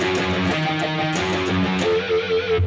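An electric guitar plays the closing lick of a riff, a short run of picked notes that continues steadily for a few seconds with no talking.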